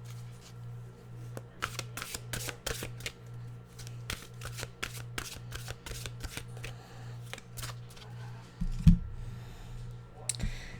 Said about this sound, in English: We'll get our mystical wisdom cards out.